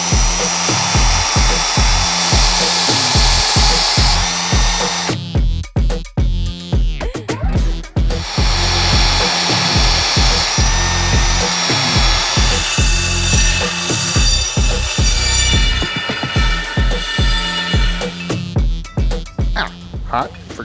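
Tube notcher cutting steel tubing for a homemade go-kart roof structure: a loud, close, grinding whine in long runs, briefly stopping around the five-second mark and then resuming with rhythmic chattering bursts.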